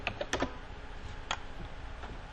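Someone types a short word on a computer keyboard, with a few quick, crisp key clicks clustered early and a couple more spaced out afterward, quiet and close.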